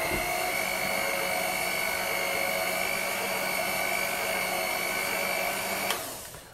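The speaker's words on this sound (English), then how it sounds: "And when the mixing is finished" Electric mixer beating marmalade cake batter of flour, milk and beaten egg, a steady loud whirring motor hum that holds constant, then winds down and trails off at the end.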